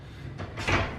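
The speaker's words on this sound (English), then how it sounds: "is opening the doors." An operator slides open the doors of the funicular car on Scarborough's old cliff lift, a short scraping slide followed by a louder rattling clatter, fairly close and with no talk.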